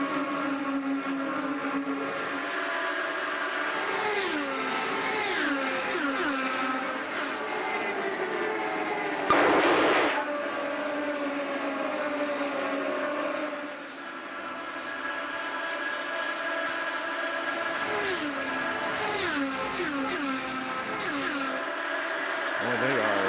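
IndyCar race cars at Homestead, Florida, in the 2010 Cafes do Brasil Indy 300 whine past in a sustained high engine drone with shifting pitch, under continuous commentator talk, with one louder car sweeping close by midway.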